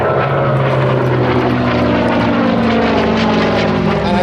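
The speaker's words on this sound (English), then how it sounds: "You see Paul rolling the aeroplane" A Hawker Fury II piston-engined propeller fighter performing at an air display at Sywell, its engine producing a loud, steady droning roar with a throbbing propeller beat that holds close and powerful throughout.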